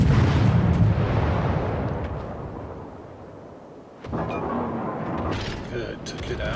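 Heavy booming blasts roll out from warship guns in World of Warships during a Halloween event, a loud rumbling report fading over several seconds before another burst of firing and a voice talking over it.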